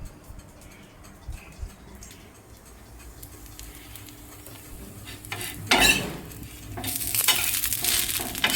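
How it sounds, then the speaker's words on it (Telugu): Multigrain dosa batter cooking on a pan at home, with a soft sizzle and scraping, then a louder burst of frying near the end as the batter spreads on the hot surface. "ఇంకా దోశ వేసేస్తున్నాను."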